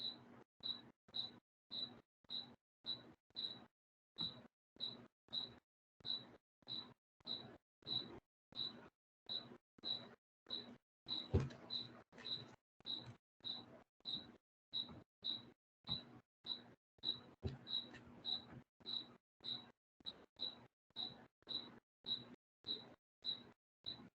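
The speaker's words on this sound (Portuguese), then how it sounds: "Eu tenho um grilo aqui em algum canto." A cricket chirps somewhere indoors, giving faint, sharp, evenly spaced chirps that repeat steadily for the whole stretch, with low room noise underneath.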